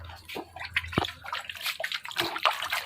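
Water sloshes and splashes as a pet rabbit sits bathing in cold water, with irregular close splashes and drips throughout.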